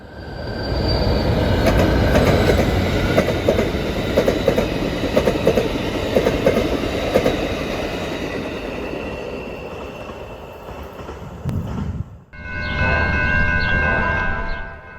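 An Amtrak Wolverine passenger train, number 355, crosses near the Huron River just west of Ypsilanti on the Michigan Line, a loud close rumble with wheel squeal and clacking that cuts off abruptly near the end.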